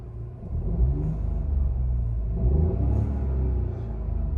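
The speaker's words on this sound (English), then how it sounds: "And then we'll give it a quick rev for you." A 2015 Ford Fiesta Zetec S with a 140 three-cylinder engine is revved once, a low rumble swelling into a smooth, brief rise before settling back to idle, heard close with no talking.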